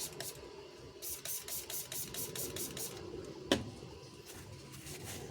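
Cleaner sprayed onto gloves at a resin-casting worktable: a quick series of short, bright hissing bursts in a steady rhythm, close and fairly loud, with one sharper clack partway through and more bursts after.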